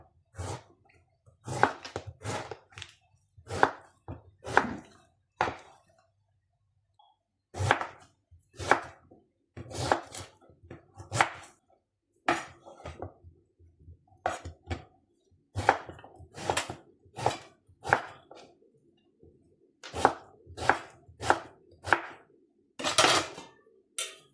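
A knife chops peeled beetroot into small pieces on a board, giving crisp, close, rhythmic taps in quick bursts of several strokes, separated by short pauses.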